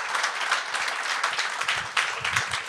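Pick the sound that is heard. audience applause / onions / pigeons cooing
audience applause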